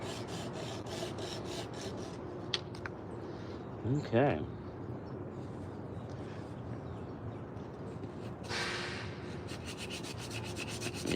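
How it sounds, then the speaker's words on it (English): Steady rasping rub of hand sanding on a carved wooden spoon made from forest wood, continuing through the clip with a brief spoken word and distant aircraft and roadwork noise in the background. "What I call my one-speed, high-speed sander."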